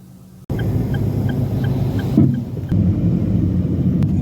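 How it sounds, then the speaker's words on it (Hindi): A bus carrying workers moves through morning traffic, its engine a steady low rumble that swells after a sudden start and holds near and loud throughout, with brief surges but no talk. "वर्कर्स को लेके जाने वाली बस हैं जी।"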